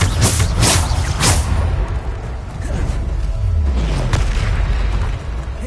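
Bombarda explosion spells cast in combat in the Hogwarts Legacy video game: heavy booming blasts cluster at the start, then a continuous low rumble with softer whooshing bursts carries through to the end.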